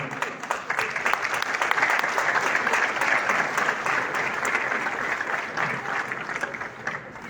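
Wedding ceremony audience gives sustained applause for newly married couples, a full crowd of clapping hands that swells early and eases slightly toward the end, without talk over it.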